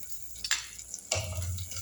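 Onions and green chillies sauté in a clay pot for a fish kuzhambu, with soft sizzling and a couple of scraping stirs, close and brief, with no talking.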